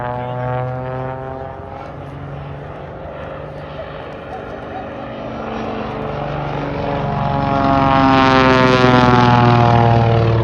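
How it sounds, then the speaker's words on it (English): A powerful jet engine on a biplane roars continuously at an air show, its pitch shifting as it passes and swelling louder near the end, with a voice talking faintly underneath. "that crazy sound of a jet engine on a biplane"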